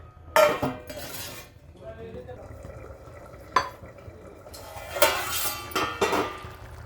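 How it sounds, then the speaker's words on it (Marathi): A metal lid clatters onto a pot of simmering chickpea curry, with several sharp clinks and scrapes of cookware separated by quieter stretches, close and moderately loud, with faint speech in the background. "आता आपली छोल्याची भाजी थोडा वेळ अजून शिजू देणार आहे आपण झाकण ठेवते आता"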